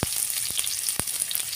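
Cumin seeds and chopped onion frying in hot oil in a home kitchen, a steady close sizzle with a few sharp ticks as pieces are stirred in.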